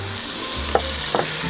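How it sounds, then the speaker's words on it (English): Butter sizzling in a frying pan, a steady close crackle with a couple of brief scraping touches, no voices. "get a little bit of this butter on a pan"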